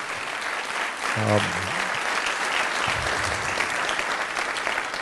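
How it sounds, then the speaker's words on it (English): An audience gives a big round of applause, steady dense clapping filling the whole stretch, with a brief spoken word near the start under the clapping. "Please give them a big round of applause."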